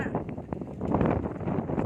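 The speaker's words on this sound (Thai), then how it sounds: "โอ้ลมแรงโอ้ลม แรงมากเห็นไหมคะ" Strong storm wind in Ireland buffets the microphone with a steady, loud broadband roar and gusty rumble throughout, while someone talks over it.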